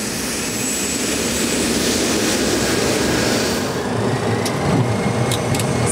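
Airliner jet engines spooling up for takeoff in foggy conditions, a loud, steady broadband roar that holds throughout with a slight swell near the end and no talk over it.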